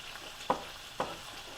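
Red pepper and sausage in a pan, heard as a soft steady sizzle with two short scraping stirs half a second apart.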